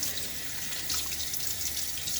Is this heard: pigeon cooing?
no